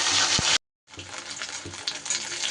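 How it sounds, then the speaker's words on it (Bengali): Lote fish frying in a pan of oil, a dense continuous sizzle that cuts out briefly and returns with steady crackling. "বেশ সুন্দর করে লাল লাল করে কিন্তু ভেজে নিতে হবে।"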